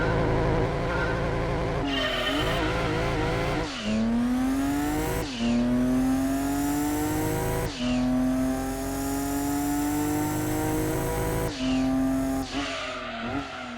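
A race car engine in the PS1 game Gran Turismo 2 revving hard and climbing in pitch, shifting gears repeatedly with sharp drops, loud and continuous with a game-like quality.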